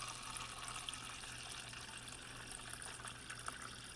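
Water from a GE refrigerator dispenser pours steadily into a cup while a newly installed MSWF filter is flushed, making a continuous hissing splash at moderate volume with no talking.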